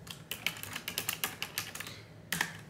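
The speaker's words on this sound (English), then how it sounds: "I love a loud ass keyboard" Rapid clacking of a loud computer keyboard, quick bursts of keystrokes with a short pause before a final flurry, close up.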